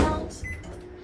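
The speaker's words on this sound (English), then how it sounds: "We're gonna stick it in the microwave for about 30 seconds so it can melt." A microwave oven being started to melt butter, a brief beep and short electronic tone as the door and buttons are worked, followed by the faint hum of the oven, close by and without speech.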